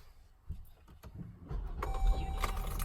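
Jeep Grand Cherokee Limited V6 cranking and catching, a brief starter whir rising into a steady idle rumble with a faint whine, close by and without talk.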